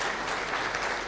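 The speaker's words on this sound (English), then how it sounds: "Another round of applause, please" A short burst of crowd clapping at an official ceremony honouring a president, steady and fairly quiet, a brief continuous patter without voices.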